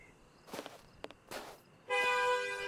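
A few short footsteps or knocks, then a loud sustained car horn blast with a bright, steady tone that holds to the end, in the game The Testament of Sherlock Holmes.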